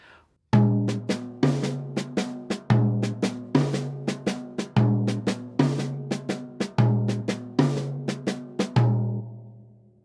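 A repeating jazz drum groove: a resonant low tom hit on the downbeat followed by quick sharp snare strokes, cycling steadily several times up close.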